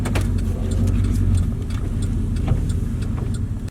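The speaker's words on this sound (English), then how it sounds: "here's a clip of me putting it in reverse" A wrecked single-cab Chevrolet Silverado pickup idles steadily, close and loud, as it is shifted into reverse, with a few faint clicks and clunks over the low engine drone and no talk.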